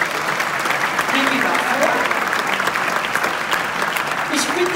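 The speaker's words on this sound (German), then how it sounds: "Nochmal Applaus." Audience applause fills a ballroom at an opera ball in Graz, Austria, steady dense clapping throughout with someone speaking over it.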